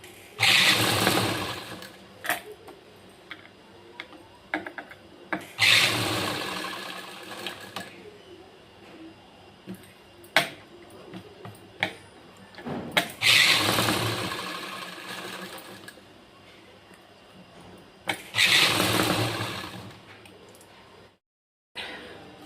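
A sewing machine stitches a strip around the neckline of an embroidered blouse in several strong whirring runs separated by pauses, with a voice heard faintly at moments between the bursts.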